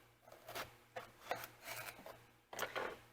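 A knife slices an eggplant in half on a board, giving a handful of faint, close rasping strokes spaced unevenly with quiet gaps between them.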